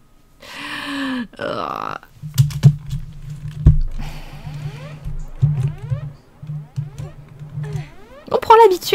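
Rapid clicks of a computer keyboard sound while Tomb Raider II is played on PC, mixed with game sounds and character grunts and breaths, with bursts of key presses against the game audio.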